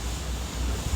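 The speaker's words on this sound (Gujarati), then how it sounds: "અહીં જોઈ શકો છો દરિયો" Sea waves roll in at a rocky shore, a continuous dull roar of surf mixed with gusting wind buffeting the microphone.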